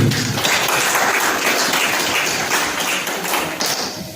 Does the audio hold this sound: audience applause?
yes